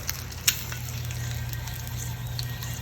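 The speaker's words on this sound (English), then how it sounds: "you can hear it sizzling" A rack of lamb sizzles steadily on a Weber kettle grill, a soft continuous hiss with a few small crackles and a faint low hum underneath, no voices.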